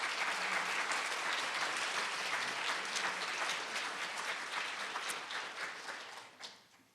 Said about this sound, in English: So a big round of applause for the Mattiellis.